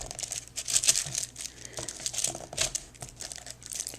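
A paper trimmer slices through a sheet of paper, making quick crisp crinkling and scraping strokes with soft handling rustles between them, close and fairly quiet.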